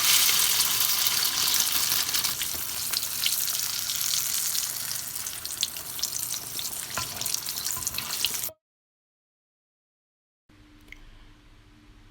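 Shami kebabs deep frying in hot oil in a kadai, a steady bright sizzling hiss that fades slightly before cutting out, followed by faint low room noise.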